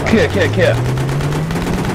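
Automatic gunfire from the Battlefield 3 video game crackles in rapid bursts beneath shouting players during multiplayer combat, with a steady engine drone running throughout.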